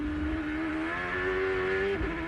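A Ford-powered Champ Car, ridden onboard with Wilson at the 2004 Road America Grand Prix, screams at a steady 9,300 RPM in fifth gear, its loud, sustained engine note holding almost level before a brief dip near the end.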